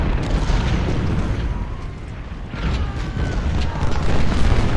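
Cannon and musket volley fire in the Civil War strategy game Ultimate General: Civil War at Saunders Farm: a dense, continuous rumble of booming artillery and rolling gunfire, loud and sustained with no clear gaps.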